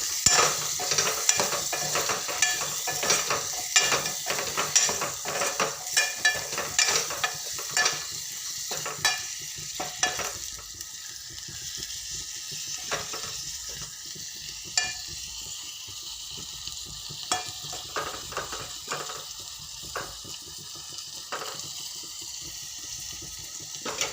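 Potato and eggplant curry is stir-fried in a pan, a steady sizzle broken by repeated scraping and stirring strokes, close and continuous, with no talking.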